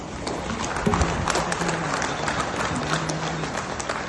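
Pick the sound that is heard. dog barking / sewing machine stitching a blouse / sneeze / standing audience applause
standing audience applause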